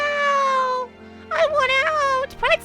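A cat girl character in the video game Sakura Dungeon yowls and meows in a drawn-out, wavering cry, followed by a series of loud, insistent cat-like yowls, close and prominent.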